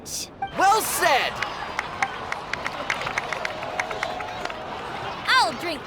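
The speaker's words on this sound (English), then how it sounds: "please give another round of applause for them" Crowd applause and cheering in Genshin Impact's Natlan, a steady spread of clapping and cheers with scattered whoops, plus brief whistling swoops near the start and end.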